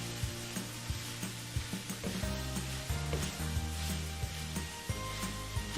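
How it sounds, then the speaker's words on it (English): Onions and beef frying on low heat in a pan give a steady, close sizzle with occasional stirring clatter, under background music. "Onions have softened. Just gonna keep it on a low heat."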